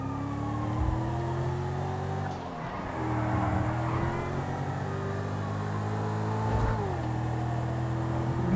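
A car engine revs and shifts gears in the GTA V video game during a police chase, steady accelerating tones rising and dropping twice.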